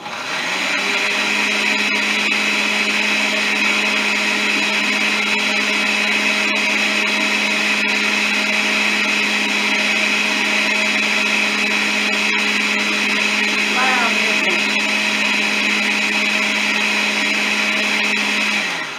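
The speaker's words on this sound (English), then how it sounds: "Now I'm going to blend this up for just a few minutes to get my onions blended in with my sauce." A countertop blender runs steadily at high speed, blending green onions into a dressing sauce, a loud, constant motor whine with no pauses.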